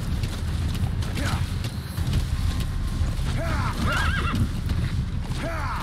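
D-Horse galloping in Metal Gear Solid V: The Phantom Pain, a rapid, steady clip-clop of hooves with a few whinnies and mechanical creaks layered over a low rumble, loud and continuous.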